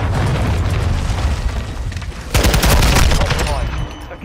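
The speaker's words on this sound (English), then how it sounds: "Friendly cruise missile approaching target." Cruise missile strike in Call of Duty, a loud rolling rumble that breaks into a burst of heavy explosions and crackling blasts, close and dense.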